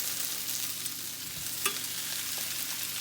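Shrimp added to a pan of caramelizing onion sizzle with a steady, close frying hiss, broken by brief stirring and a short clatter near the middle.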